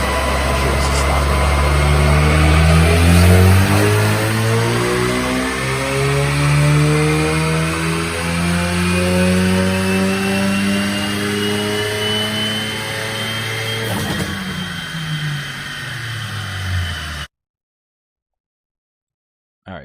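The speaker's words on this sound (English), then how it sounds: "Let's see what it looks like and sounds like on the dyno." A stock Ford Focus RS engine revs hard on a dyno, loud and close, with rising and falling harmonic sweeps through repeated pulls before cutting off abruptly near the end.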